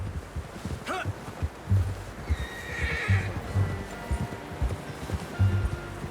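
A horse neighs in Red Dead Redemption 2 over steady game ambience, with hooves clip-clopping and a soft rustle. The sound is moderately loud, with no speech.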